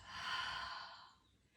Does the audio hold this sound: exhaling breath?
yes